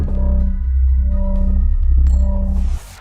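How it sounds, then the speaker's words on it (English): A looping electronic Pokémon TCG Live tone for a sleeping Pokémon, with steady low hum and soft pulsing notes, fairly quiet and alone, ending abruptly. "That is the sound of my Pokemon being asleep."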